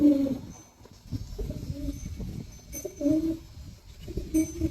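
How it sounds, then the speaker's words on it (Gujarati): Pigeons cooing in a rural village yard near a running motor, soft repeated low coos recurring in short bursts over a steady background hum, fairly close. "બધો કબૂતરા છે"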